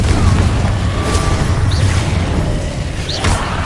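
A Confringo explosion spell going off in the video game Hogwarts Legacy. It lands as a heavy boom with a rumbling low end and sweeping whooshes, followed by a couple of brief bright zaps over sustained game noise.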